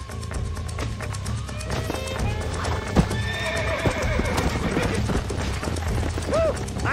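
Horse hooves clip-clop rapidly at a gallop in Red Dead Redemption, loud and close, with a horse neighing partway through over a busy game soundscape.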